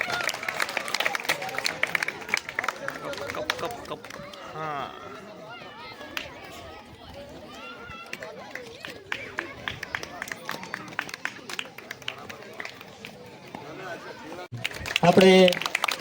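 At a kabaddi event in Dalkhaniya, a crowd applauds the Morbi team with scattered, fairly close clapping under a speaker talking over a loudspeaker, the clapping swelling briefly near the end.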